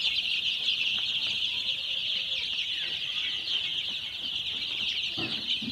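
Week-old Sonali chicken chicks cheep and cluck together in their pen, a dense, continuous chorus of high peeping that stays fairly loud throughout.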